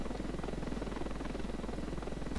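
A helicopter in the Ravenfield video game gives a steady, continuous rotor and engine drone that holds at an even loudness throughout.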